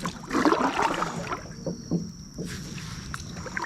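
Kayak drifting on Lake Adger in North Carolina, carried by a gentle current without paddling; soft water lapping and hull swishing sit close and steady, with a brighter splashy patch early on and calmer, quieter water afterward.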